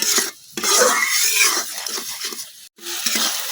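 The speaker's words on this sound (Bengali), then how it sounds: "এখন মশলাটা কিছুক্ষণ কষাই নেন" Spice paste (masala) being stirred and fried in a pan for a fish and fresh-eggplant curry, with close, repeated scraping strokes, a soft sizzle underneath, and short pauses between stirs.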